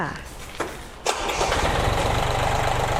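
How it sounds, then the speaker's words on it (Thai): An Iseki TU 225F 22 hp Japanese tractor engine cranks with a couple of sharp clicks, then catches and settles into a steady, close, rumbling idle, with a voice speaking briefly over it. "สตาร์ทง่ายมากๆนะคะพี่ๆลองดู"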